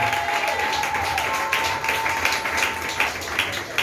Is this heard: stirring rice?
no